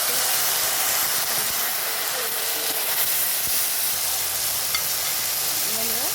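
A tomato fries in hot oil in a pan with cloves, cardamom, cinnamon, a bay leaf and dried chillies, giving a steady loud sizzle and hiss with occasional stirring scrapes and no talking.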